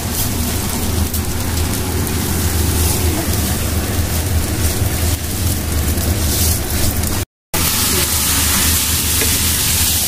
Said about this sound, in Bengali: এখন পোলাওতে একটু ঘি দিচ্ছে ফুপু।